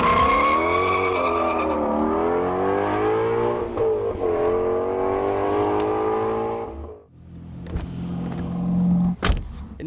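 A 2020 Ford Mustang Shelby GT500 on a race track roars as it accelerates through rising and falling gears, loud and close, then drops away briefly before revving again with sharp bursts.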